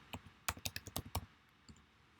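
A short burst of about eight crisp computer keyboard keystrokes in quick succession, close and distinct, followed by a pause and a single later tap, over a quiet background with no speech.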